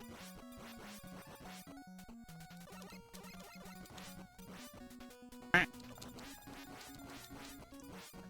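Quacking duck sound effect from the NES game Mega Man 3, repeating over a busy chiptune music track with a steady bassline, plus one sharp louder burst midway.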